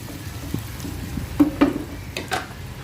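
Spicy buttered garlic shrimp sizzle softly in a pan while being stirred, with a few light scraping clinks of the utensil against the pan over a steady quiet fry.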